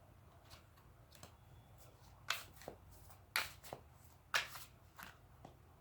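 Oracle cards from a Heart of Faery deck being shuffled by hand, with soft papery riffles and several sharper slaps and flicks at irregular intervals, close and fairly quiet against a faint background hiss, no voices.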